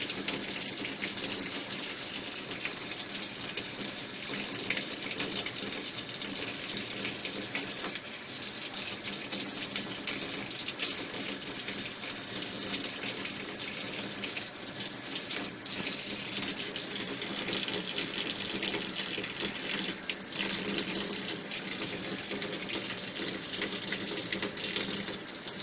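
Water runs continuously into a sink while an endoscope is flushed and washed, a steady, close gushing stream with slight shifts in flow.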